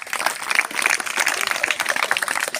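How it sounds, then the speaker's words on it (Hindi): A crowd at a school event claps for a guest, giving a dense, steady patter of many hands that stays fairly loud and even throughout. "तालियां।"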